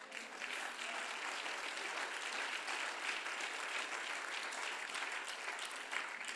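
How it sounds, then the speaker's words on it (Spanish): Sustained, even applause from a church congregation during a Sunday family service, a soft continuous wash of many hands clapping at moderate distance with no talk over it. "un aplauso al Señor, hermanos."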